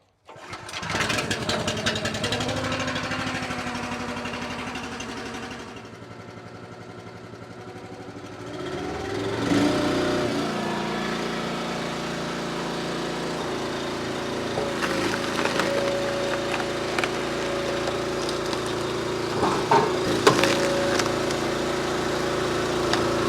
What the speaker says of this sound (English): to the Wolfe Ridge log splitter